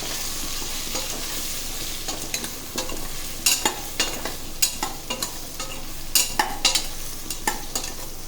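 A spatula scrapes and taps through a spiced potato curry with dry spices in a pan, giving irregular stirring clicks over a soft continuous sizzle, close by.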